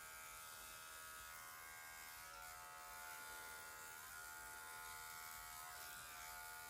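An electric clipper buzzes steadily while trimming the fur between a dog's paw pads, a faint continuous hum at close range with no talking.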